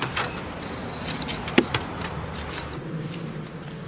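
Honeybees from a newly installed package hive hum in a steady, faint drone that fills the whole stretch, with a brief sharp knock near the middle.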